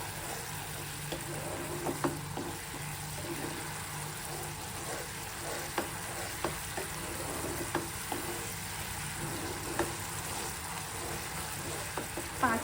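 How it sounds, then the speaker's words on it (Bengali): Prawns sautéed in a mustard and poppy seed paste with turmeric sizzle steadily in a pan, with light scraping stir clicks scattered throughout, close up and with no talk. "সব কিছু মিক্সড করে নেড়ে চেড়ে 5 মিনিটের মতো কষিয়ে নেব।"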